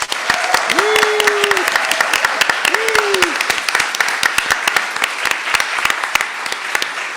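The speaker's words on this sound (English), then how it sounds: "Round of applause for our panelists." Audience applauding panelists after a panel discussion, a dense patter of many hands with sharp individual claps standing out nearby, while a voice speaks briefly over the start before the clapping carries on alone.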